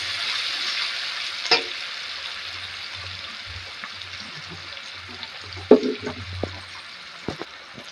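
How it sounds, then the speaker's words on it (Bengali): Onions fry in a pan for Bangladeshi-style pulao, a soft steady sizzle with occasional stirring knocks and a low intermittent hum nearby. "আগে তো পেঁয়াজটা ভেজে নেব।"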